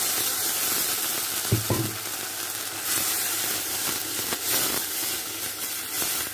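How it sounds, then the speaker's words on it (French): Tomatoes fry in a pan for a Congolese meal, making a steady, loud, close sizzle and hiss with a few soft clinks from stirring and no talking. "Je vais griller, mais je ne veux pas trop les griller parce que c'est pas la peine"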